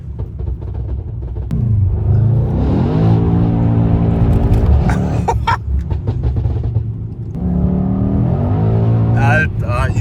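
Mercedes E63S AMG engine revs hard while driving, two long loud pulls rising in pitch with a deep exhaust rumble, crackles between them and excited voices talking over the top.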